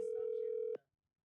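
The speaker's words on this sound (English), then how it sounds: "Calling Kennedy Davenport Mobile" A single continuous phone dial tone from an outgoing mobile call holds steady, then cuts off abruptly after under a second, leaving near silence.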